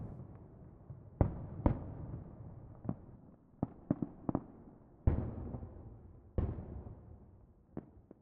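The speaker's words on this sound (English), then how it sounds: "Are those fireworks? I haven't seen fireworks in forever." Fireworks burst in the distance during a quiet outdoor scene, a scattered series of sharp cracks and pops, some doubled, each trailing a short echo over a low steady background.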